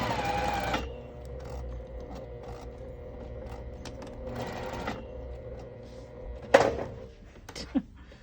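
Sewing machine running a short reverse stitch to lock a seam, a steady mechanical whir with bursts of motor activity and a couple of sharp thunks near the end, close and moderately loud with no talk.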